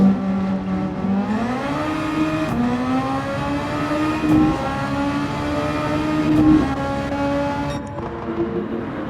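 A Super Formula race car in Gran Turismo 7 screams at high revs around Suzuka, its loud engine note climbing and then bouncing repeatedly off the rev limiter in sharp stuttering cuts, heard alone and close.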